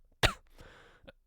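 A single sharp cough bursts out close by, followed by faint rustling and a small second catch of breath.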